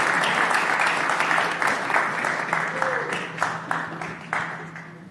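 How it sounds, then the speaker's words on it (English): An audience applauds after a presentation at a space accelerator launch day event, a dense, sustained wash of clapping that gradually thins and fades toward the end. "a big round of applause, Chris."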